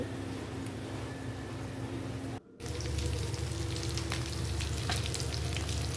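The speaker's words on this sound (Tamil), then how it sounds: "கொதித்ததுக்கப்புறம் இப்போ மீனை போடுவோம்." Fish curry bubbling in a pot after the fish goes in, a constant loud simmering hiss and crackle with a brief drop-out partway through, close by and without talking.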